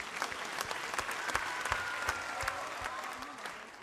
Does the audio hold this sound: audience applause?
yes